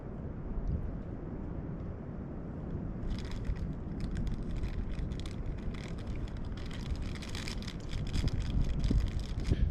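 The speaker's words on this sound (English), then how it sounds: "it is pretty windy, but it's not as windy as I thought it was going to be" Wind buffets a mountain summit in the Smokies in winter, a constant low rumble of gusts hitting the microphone, strengthening with crackly rustling bursts midway and swelling louder at the end, no voices heard.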